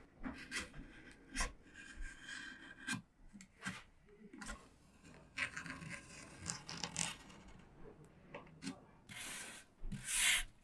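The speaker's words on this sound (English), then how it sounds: "I'll go in with the sandpaper just to smooth off those edges so that there's no paper sticking out that can catch anywhere" Sandpaper of about 220 to 240 grit rubbing along the trimmed paper edges of a decoupaged vintage wooden vanity, a series of close, soft rasping strokes with brief pauses between them.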